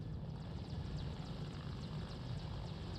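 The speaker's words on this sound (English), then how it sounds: "There's my Hind in the distance." A Hind attack helicopter in the real-time strategy game WARNO gives off a faint, distant rotor thrum with a rhythmic chop, low and steady throughout with no talking.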